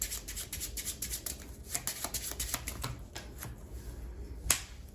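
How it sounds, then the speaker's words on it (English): A deck of playing cards being shuffled during a tabletop card game, soft riffling and snapping flutters repeating in quick bursts, close and fairly quiet with no talk over it. "so I'm going to shuffle"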